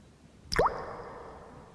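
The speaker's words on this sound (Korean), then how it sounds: "그리고 나서 액체 비누를 넣어줍니다." A drop of liquid soap falls into a water container for a nail exam setup, making a single close, quiet plop with a brief rising tone, then a faint fading ring.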